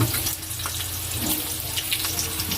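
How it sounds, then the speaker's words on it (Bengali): Potatoes frying in a pan with meat cooked in the same style, a steady broadband hiss and crackle running without a break, close up and fairly loud, with no talking. "তো এখানে আলুগুলো ভেজে নিই।"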